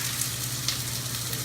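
Onions hitting hot oil in a saucepan give a steady, close broadband sizzle with a faint crackle, running on without a break and with no voices.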